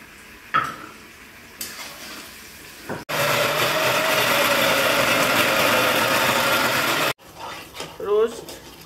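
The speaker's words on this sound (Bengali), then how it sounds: "রোস্টে যা যা দিতে হয় তা দিয়ে মশলাটাকে কষিয়ে নেওয়া হচ্ছে" Roast spice paste for goat meat sizzling and frying in a pan, a steady loud hiss lasting several seconds between quieter stretches with soft voices talking.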